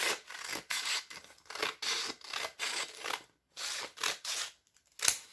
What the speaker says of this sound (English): I'm just cutting this wet dry sandpaper in strips.